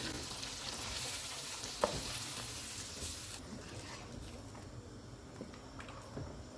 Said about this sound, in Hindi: सारे मसाले डालेंगे, इनको मिक्स करेंगे